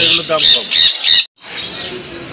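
Birds at the Dakshineswar pet market give several loud, harsh squawks in quick succession, close by, then a shorter call after a brief pause, over busy market background.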